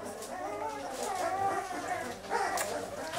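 Five-week-old puppies in a kennel whimper and yip with high, wavering cries that overlap throughout, close and fairly steady.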